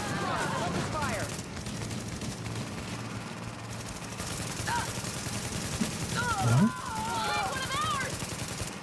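Gunfire in The Division, bursts of rapid shots behind game voices and radio chatter, with sharp metallic impacts and a louder crack near the end.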